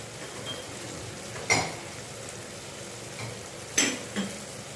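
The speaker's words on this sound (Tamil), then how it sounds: "இப்போ வதங்கட்டும் இப்போ பாருங்கள் நல்லா வதங்கியாச்சு" Chutney ingredients, including green chilies, sautéing in a pan: a faint steady sizzle with two sharp metallic clinks of a utensil against the pan a couple of seconds apart.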